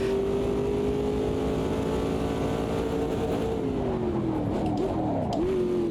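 A Ferrari GTE race car engine in the Automobilista 2 racing game drones loudly and steadily at high revs, then the pitch drops and wavers through several quick downshifts near the end, heard continuously without talk.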